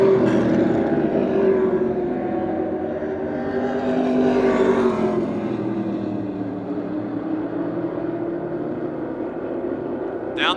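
Race cars circle Motordrome Speedway, a droning engine whine that rises and fades as cars pass down the back straight, with a faint voice in the background.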